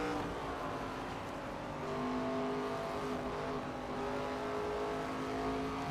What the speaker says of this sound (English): So Wallach coming down right now, it sounds like.